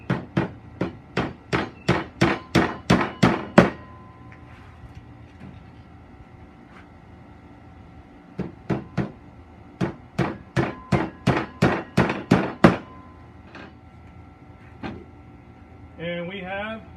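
Small finishing nails are hammered into a wooden tool caddy, two quick runs of about ten sharp, evenly spaced blows each, separated by a quiet pause and close to the listener.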